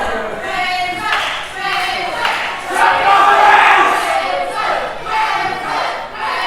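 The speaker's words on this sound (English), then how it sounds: "Crowd trying to get Crimson Cage back into this" Crowd at a FUSION Pro wrestling show roars and cheers after a drop kick, a dense, sustained wall of shouting and chanting that swells in the middle and stays loud throughout, with no talk on top.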